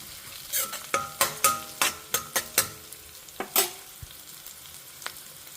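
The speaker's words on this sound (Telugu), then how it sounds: "సో ఆనియన్స్ వేగినాయి చూడండి" Onions frying in a pan before cabbage goes in, a quick series of sharp spatula knocks and scrapes against the pan over a faint sizzle, then fewer strokes trailing off.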